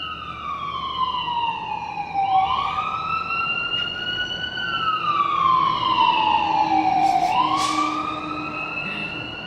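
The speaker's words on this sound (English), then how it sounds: "you can hear the sirens going crazy here in Cleveland" Sirens of emergency vehicles, including an ambulance, pass through Cleveland, rising and falling in long wailing sweeps that grow louder at mid-distance over steady street noise.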